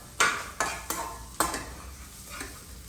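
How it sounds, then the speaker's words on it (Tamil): Tomato puree is stirred in a cooking pan during vadacurry preparation, giving several sharp scraping clacks of a spoon against metal over a soft bubbling sizzle, then quieter stirring. "இது கொஞ்சம் வந்து கொதிக்கட்டும்."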